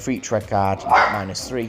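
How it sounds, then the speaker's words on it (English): A pet dog barks and yips a few times close by, its short bursts mixed in with and partly covered by a man's ongoing speech. "Sorry, that's my dog."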